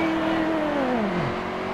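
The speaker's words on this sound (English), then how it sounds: "I can hear his car redlining going in the corner." Race car engine in a racing video game at Martinsville, revving high near redline and then dropping sharply in pitch as it slows into a corner, loud and close.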